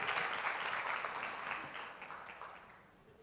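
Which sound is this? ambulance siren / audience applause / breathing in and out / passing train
audience applause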